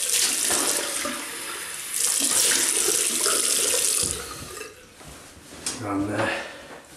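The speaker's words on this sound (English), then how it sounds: "So I just rinse off with warm water." Warm water runs steadily from a tap into a sink for rinsing during a wet shave, a continuous close splashing flow that lightens briefly midway, with dish-like clinks near the end.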